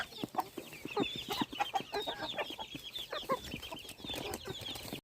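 Chickens cluck repeatedly in short, sharp bursts, fairly close, with scattered overlapping calls and no talking.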